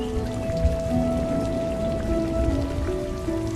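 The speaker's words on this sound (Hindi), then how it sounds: "अचानक महसूस करें धीरे धीरे बारिश की बूंदें" Steady rain falling, raindrops pattering densely on a surface throughout, close and even with no gaps, plus a faint sustained tone underneath.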